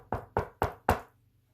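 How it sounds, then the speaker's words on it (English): Four firm knocks on a door, evenly spaced and close, each a sharp rap followed by a short fade, then quiet. "Mr. Happy knocked on the door."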